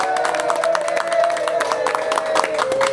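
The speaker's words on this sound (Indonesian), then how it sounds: "kita sekarang tepuk tangan untuk kita semua" A crowd watching the 2026 World Cup final, Argentina vs Spain, claps and cheers in a loud, continuous burst, with a voice carrying through the noise.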